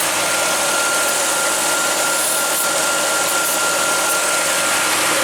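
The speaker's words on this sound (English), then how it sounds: "Discover a vacuum leak right here." An AMC Gremlin engine with a vacuum leak idles steadily, a dense, even, hissy roar held loud and close throughout with no talking.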